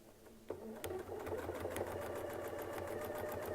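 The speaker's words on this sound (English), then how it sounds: "I'm just going to sew down and up" A sewing machine stitches with a Westalee Spin E Fex 14 series ruler foot. It starts up and runs at a steady, even, rhythmic hum, close and moderately loud, with no talk over it.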